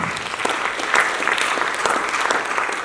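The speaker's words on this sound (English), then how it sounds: "Please, give a lot of applause" A tech summit audience applauds in a steady, full wash of clapping heard up close.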